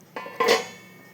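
Metal lid lifted off a pot of simmering fish curry, with two quick clinks followed by a brighter scraping clatter of metal on metal, close and alone.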